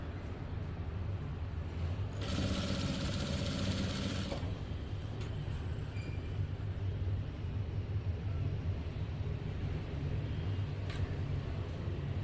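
A sewing machine stitches a plain blouse in one short, fast, buzzing burst of about two seconds, over a constant low room rumble, followed by faint handling clicks.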